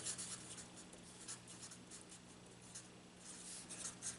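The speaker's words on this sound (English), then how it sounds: "So let's write that down." Pen or pencil writing a calculus derivative on paper or a board, faint, soft scratching strokes in short irregular bursts over a steady low hum.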